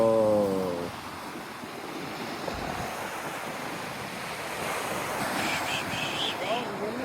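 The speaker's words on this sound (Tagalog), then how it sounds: "Sobrang lakas ng alon." Loud, continuous roar of surf and wind buffeting the microphone, with a brief voice at the very start.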